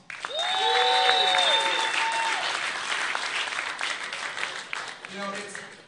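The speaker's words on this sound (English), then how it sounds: "So give yourself a huge round of applause." An audience applauds with loud, sustained clapping that starts abruptly and slowly thins out, while brief tonal music notes sound at the start and again near the end.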